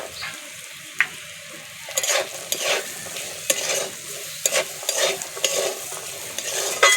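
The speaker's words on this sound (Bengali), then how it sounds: "মশলাগুলো আলুর সঙ্গে ভেজে নেব" Spices fried with potatoes and peas in a pan, with a close, steady sizzle broken by repeated scraping stirs of a spoon, several sharp strokes against the pan surface.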